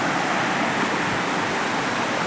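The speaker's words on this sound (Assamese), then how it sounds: "কিমান শব্দ হৈ আছে পানীৰ" Steady, loud roar of a waterfall rushing down outdoors under light rain, a continuous broadband wash of water with no voices over it.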